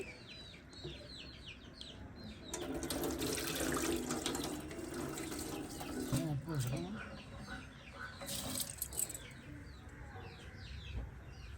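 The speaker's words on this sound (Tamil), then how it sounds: "அரிசியை கழுவுவோம்." Rice being washed under running tap water in a home kitchen, a continuous splashing and trickling close by, with hens clucking and a rooster in the background.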